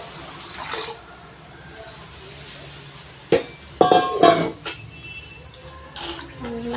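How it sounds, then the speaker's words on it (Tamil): Water is poured into a pot of rice for chicken biryani, with splashy bursts of pouring and clinks of metal vessels midway through. Quieter kitchen sounds fill the rest. "இப்போ நம்ம தண்ணி ஊற்றிடலாம்."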